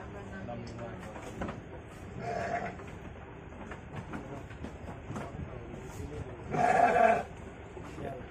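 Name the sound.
sheep bleating in pen during weighing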